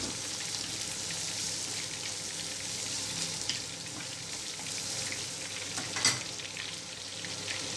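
Green chilli, ginger and garlic sautéing in a pan for a spinach fish dish, a steady close sizzle and crackle of hot oil with a brief louder pop near the end, no voices.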